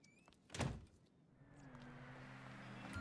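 A single solid thunk of a door shutting in GTA V, a short muffled impact near the start, followed by a low steady engine-like hum that rises and continues to the end.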